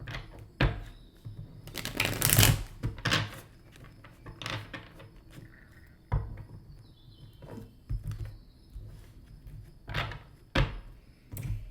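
Tarot cards being shuffled by hand during a reading, giving a run of soft riffling patters and dull thunks over about twelve seconds, close and fairly quiet with brief louder bursts and no talk.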